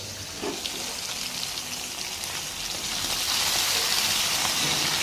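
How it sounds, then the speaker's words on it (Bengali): Bhola fish sizzling as it fries in oil in a pan, a steady close hiss and crackle that swells louder toward the end, with no voices. "দেখো আমার ভাজা হয়ে গেছে কিছুটা, আর কিছুটা ভাজতে বাকি আছে"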